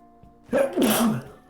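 A single sharp sneeze close to the microphone during a Persona 5 game stream, short and loud after a quiet breathy lead-in.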